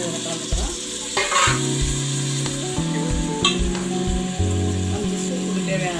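Goat leg soup sizzling in a pot while a spoon stirs it, with a steady close frying hiss and scraping knocks of stirring throughout.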